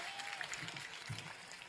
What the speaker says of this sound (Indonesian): semua tepuk tangan